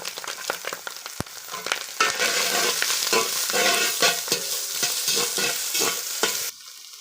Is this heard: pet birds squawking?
no